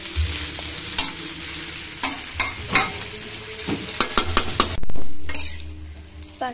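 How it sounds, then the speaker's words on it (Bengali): Pasta fries in a pan with soy sauce and a fried egg while a utensil stirs and scrapes it, producing sharp irregular clatters and scrapes over a steady sizzle, close up and loud, with no talk. "পাস্তাটা খুব ভালো করে ভাজা হলে এর মধ্যে আমরা সয়া সস আর ভেজে রাখা ডিমটাও দিয়ে দিয়েছি"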